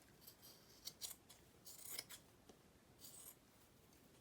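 Several quick scissor snips cutting through a men's shirt fabric, close and crisp, in short irregular bursts with quiet pauses between.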